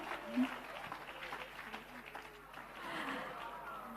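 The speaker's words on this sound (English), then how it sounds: "Put your hands together for him." Audience applause for a man being introduced from the crowd, moderately loud and sustained across the moment with a brief louder burst early on, mixed with some voices.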